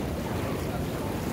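Water bubbling hard in a spa pool at the Aqva Hotel & Spa water park in Rakvere, Estonia, a dense, steady churning roar close by that fills the whole moment without a break.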